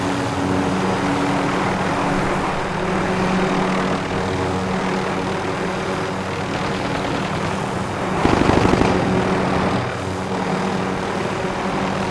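An aircraft flying in Call of Duty Warzone, a steady, loud engine and propeller drone held throughout, swelling briefly into a heavier rumbling pass before settling back to a constant hum.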